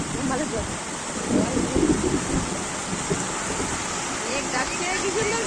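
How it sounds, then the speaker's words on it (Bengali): Rain falls steadily with gusts of wind buffeting the microphone, and low rumbles of thunder roll through from a storm overhead; voices are faintly audible beneath the downpour. "বৃষ্টি হচ্ছে কি মজা লাগছে"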